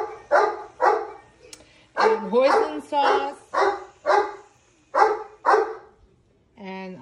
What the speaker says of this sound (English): I do apologize for the barking